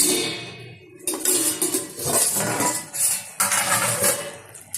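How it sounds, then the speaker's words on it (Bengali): Metal lid lifted off a pot of vegetarian gati kochu (taro) curry cooking on a stove: a loud clattering scrape and clink, followed by bursts of steamy hiss and rattling, with no speech. "ঢাকনাটা তুলে দিচ্ছি।"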